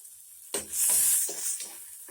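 Chopped tomatoes sizzle loudly in a hot frying pan for pasta, with bursts of hissing and scraping as they are stirred, the sizzle swelling and fading over a couple of seconds.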